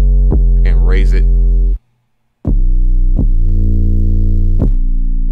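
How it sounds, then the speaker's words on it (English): Distorted 808 bass from a distortion plugin, loud booming sustained tones with hard harmonic drive, struck in several hits, a short gap of silence, then more overdriven low notes. "That's a good representation of what distortion does."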